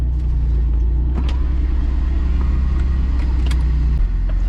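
A 500-horsepower Mitsubishi 3000GT VR4 on a test drive after fresh oil: a loud, steady in-cabin engine drone and road rumble for several seconds, with a slight drop in tone near the end.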